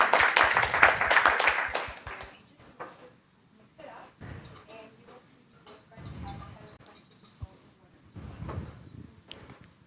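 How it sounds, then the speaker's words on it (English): An audience at a startup pitch event, Deep Tech Night, gives a short burst of clapping that fades after about two seconds, followed by scattered clicks and knocks with someone speaking. "Round of applause to Ola."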